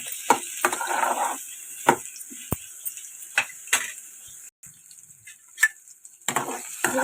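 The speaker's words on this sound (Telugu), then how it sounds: "ఇప్పుడు కట్ చేసి పెట్టుకున్నటువంటి ఆనపకాయ ముక్కల్ని దీనిలో వేసుకొని వేయించుకున్నాం" Bottle gourd pieces frying in a pan, with a steady sizzling hiss broken by irregular scrapes and clatters of a spoon stirring against the metal, close and fairly loud, no voices.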